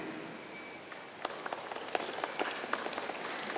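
An audience at a New Year reception in Ljutomer makes soft, scattered applause meant to imitate light rain, a faint patter of quick taps that thickens into a steady drizzle-like rustle.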